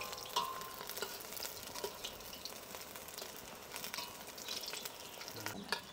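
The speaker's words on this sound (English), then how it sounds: "I've never fried on the rocket stove before." Oyster mushroom accra fritters fry in a hot pot over a rocket stove, a soft continuous sizzle and bubbling heard fairly quietly, with occasional stirring clinks on top.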